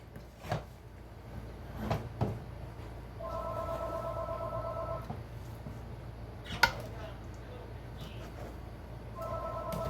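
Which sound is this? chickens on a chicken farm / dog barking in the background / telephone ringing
telephone ringing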